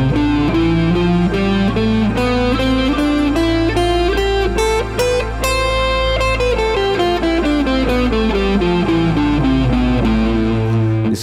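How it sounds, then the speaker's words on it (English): Electric guitar runs through an Aeolian, natural minor scale, its notes stepping up and then back down in an even, steady sequence. The tone is clear and a little driven, and it plays alone with no talking. "Okay, the next scale is an Aeolian scale."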